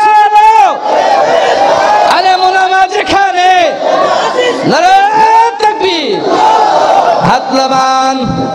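A large crowd at a Bangla religious gathering roars its reply to the Naraye Takbir chant. Loud massed voices rise in repeated swells, with a lone leading voice calling between them.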